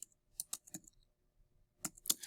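Several short bursts of computer keyboard typing while entering text in a word processor, quiet and close, with a pause between two clusters of clicks and no talk.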